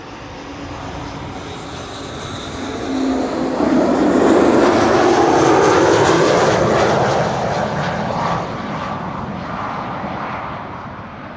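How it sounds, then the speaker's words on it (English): An Embraer 190 airliner arriving from London City passes at an airport, its jet engines swelling into a loud broad roar that peaks mid-pass and then slowly fades while still rumbling. "an Embraer 190 arriving from London City, which you will pick up on the ambient audio"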